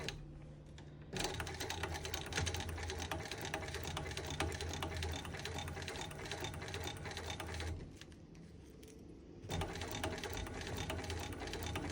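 Close, steady whirring of a sewing machine stitching with back stitching, running continuously, pausing for about two seconds near the end and then starting again.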